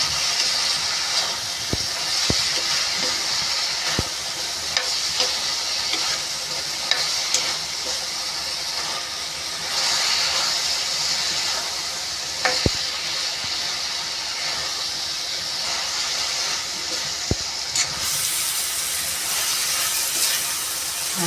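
Round brinjal and flat beans cooked with red chilli and coriander-cumin powder are stirred in a pan over a lit gas flame, producing a continuous hissing sizzle with occasional sharp spatula clacks against the metal.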